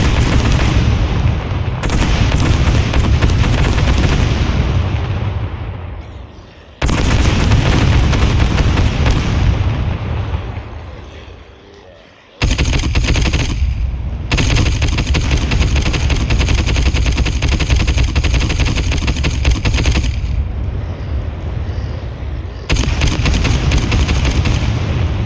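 Rapid, loud gunfire in the video game SCUM, with long continuous automatic bursts separated by short pauses, punchy and close, and no talk over it.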